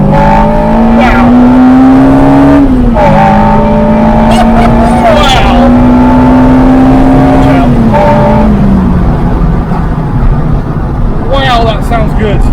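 A Honda Integra Type R DC5 fitted with a carbon airbox accelerates hard in second gear, its loud, close engine note climbing steadily through the revs and briefly dropping at gear changes, while excited voices talk and exclaim over it.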